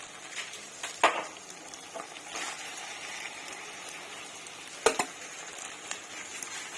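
Oyster mushroom pieces, already fried in butter, go into a pan of masala with green peas, giving a steady soft sizzle with a couple of sharp clatters from stirring.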